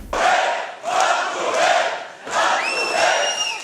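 Crowd of people shouting and yelling together in a meeting hall during a tense public gathering, loud surging waves of voices with brief lulls between bursts.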